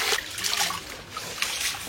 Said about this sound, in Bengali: এখানে আমরা ডিম ধুয়ে রাখলাম